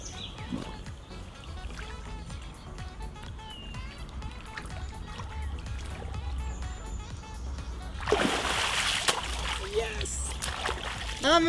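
A carp released back into a lake makes a sudden loud splash and watery churning, with soft lapping before it and a voice talking throughout.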